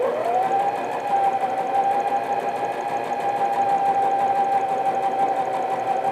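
Sewing machine running long stitches through a bag lining beneath a frill, a steady continuous motor drone with a rising whine at the start, close and loud, no talking.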